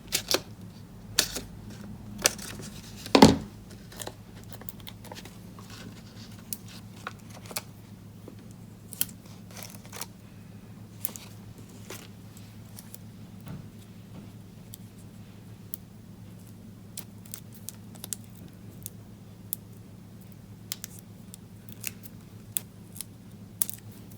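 Small scissors make repeated short snips through foam dimensional adhesive pieces for a plaid notecard, crisp irregular clicks scattered across a quiet tabletop setting over a steady low hum, with one louder snip early on and no talking.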